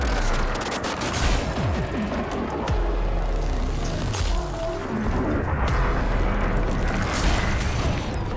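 Ship weapons in Elite: Dangerous Horizons fire in sustained rapid bursts of blaster-like shots over a constant low engine rumble, loud and continuous throughout with no talking.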